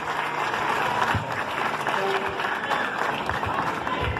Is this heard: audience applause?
yes